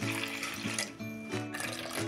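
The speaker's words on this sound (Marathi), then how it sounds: "त्यामध्ये टाकूया आता हे गरजेनुसार पाणी" Water poured from a container into poha idli batter made with thick curd, a steady close splashing stream with a faint ringing tone, no voices.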